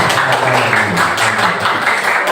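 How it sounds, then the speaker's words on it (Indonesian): A classroom of students claps for a classmate who answered an algebra question correctly, a dense and steady burst of applause filling the room with no talk over it. "beri tepuk tangan untuk teman kalian yang sudah menjawab dengan benar"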